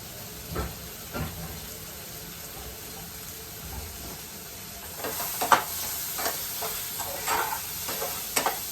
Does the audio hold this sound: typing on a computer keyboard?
no